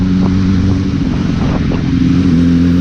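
A motorcycle engine runs close by with a steady, loud throbbing drone and slight swells in pitch, alone without talk.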